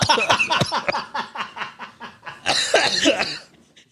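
A person coughs repeatedly in a quick, rhythmic string of short, dry hacks, then a harsher burst, close to the microphone, from someone still getting over an illness.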